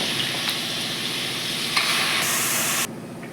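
Mutton pieces frying in hot oil for a spicy mutton curry, a loud close sizzle with stirring that cuts off sharply near the end.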